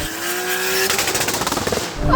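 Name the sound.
Toyota Supra TRD twin-turbo engine hitting the rev limiter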